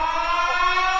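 A steady electronic siren tone in a Siren Head video game holds for a brief moment, rich in harmonics and unwavering, with no voices.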